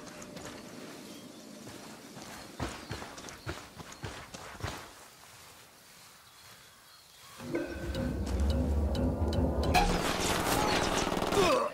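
Gunfire in the video game Ghost Recon Wildlands: scattered sharp shots and footsteps early, a quieter pause, then a sustained dense stretch of loud firing mixed with engine-like rumble.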